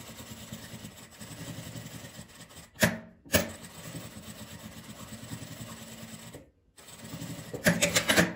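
A sewing machine stitching fabric for a patchwork coin purse runs in a steady fast whirr, pausing briefly twice, then resuming close by, with no talk.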